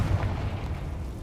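A Confringo blast spell exploding in Hogwarts Legacy, a single loud, deep booming burst that rumbles and fades quickly.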